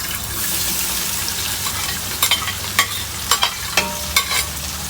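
Hot oil sizzles and crackles steadily in a pot in Trinidad, frying decoration for Jamaican bammy and fish, with sharp clicks of stirring utensils against the pot scattered through the second half, close and moderately loud.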